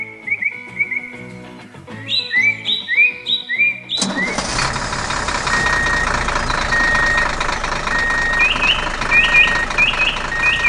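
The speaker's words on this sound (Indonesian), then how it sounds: "Traktor besar sedang berjalan melewati rumput." A big animated tractor with large, sturdy tyres drives over grass: a steady, loud engine rumble starts abruptly partway through, with chirpy beeps and whistle-like tones on top.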